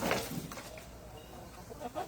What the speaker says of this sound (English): Them guineas have seen something or something.